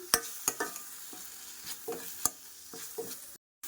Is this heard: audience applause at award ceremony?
no